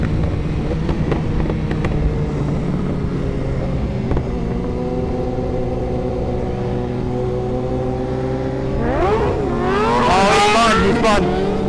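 A racing motorcycle in a roll race, with S1000RR, ZX10, CBR-RR and GSXR bikes, drones steadily, then its engine pitch sweeps up sharply and wavers as the rear spins, loud and near, without talk.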